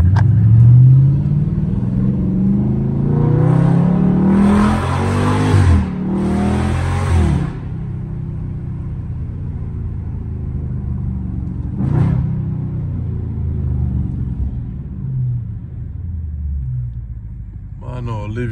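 A loud Dodge Scat Pack muscle car engine, heard from inside during a drive, revs and drops through repeated downshifts with rumbling blips and sustained roar across the whole stretch.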